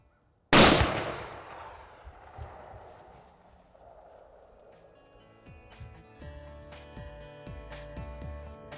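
A single loud hunting rifle shot aimed at a deer cracks out, then a long fading echo rolls across open ground, followed by quiet rustling and faint crow-like calls.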